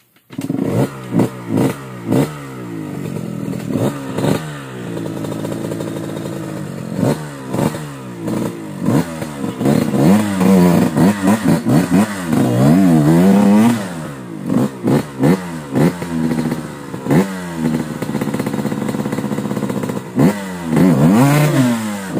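A Yamaha YZ 125 motorcycle engine revs up and down repeatedly, close and loud, with rising and falling whines and some clattering between throttle bursts.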